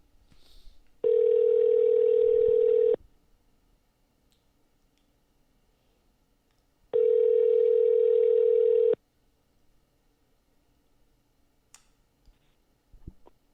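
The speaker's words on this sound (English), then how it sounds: "Please stand by while we complete your long-distance call." A landline telephone line connecting a long-distance call gives two steady, loud electronic tones, each about two seconds long and separated by a long quiet gap, followed by faint clicks.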